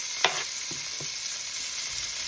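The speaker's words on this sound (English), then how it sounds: "So I'm cooking some onions." Onions sautéing in a pan with avocado oil and butter, giving a steady, close sizzle with a few soft stirring clicks near the start and no voices.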